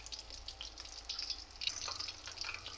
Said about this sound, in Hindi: हमारी फ़िश जो है फ्राई हो रही है।